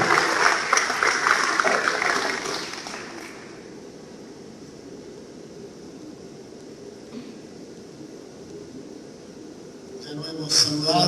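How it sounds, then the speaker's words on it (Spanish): A parish assembly in Victoria applauds a priest, a brief burst of clapping for about three seconds, then quiet room noise with faint voices, and another short swell of sound near the end. "Así que le damos un aplauso al Padre para que se anime a ayudarnos en este tema."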